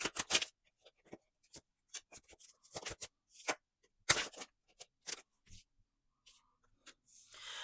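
Tarot cards are shuffled by hand in a quiet room, giving a string of crisp riffling and slapping bursts, some in quick clusters and others spaced apart, close and fairly soft, with a hiss of sliding cards near the end.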